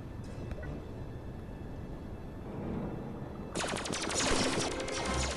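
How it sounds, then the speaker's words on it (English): Gunfire in the Star Wars: Uprising video game, a burst of rapid blaster-style shots that starts suddenly partway through over a low background rumble. "Okay, I'm gonna have to shoot him."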